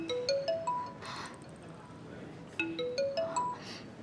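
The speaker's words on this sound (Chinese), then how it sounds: "电话响了。" A mobile phone ringtone plays a bright, rising melodic phrase of quick beeping notes, then repeats it after a pause, moderately quiet and indoors.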